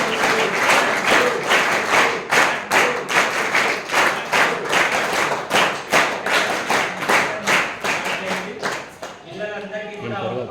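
An audience at a school career guidance program claps in a strong, steady rhythm to welcome a guest speaker, with loud evenly spaced claps for about nine seconds, then trailing off as a voice begins talking.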